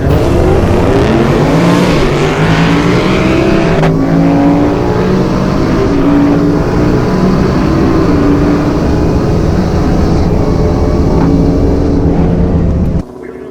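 Dodge Challenger Hellcat street racing, its loud engine revving hard and climbing through gears in one sustained run near the listener before cutting off sharply at the end.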